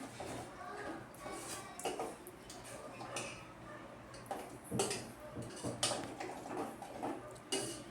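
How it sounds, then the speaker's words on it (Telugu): A spoon stirs oats with sugar in a pot, giving faint scraping and clinking taps at an irregular pace, with a voice talking over them. "ఈ విధంగా మనం మంచిగా కలుపుకుంటూ ఉండాలి, లేకుంటే కింద మాడిపోతుంది"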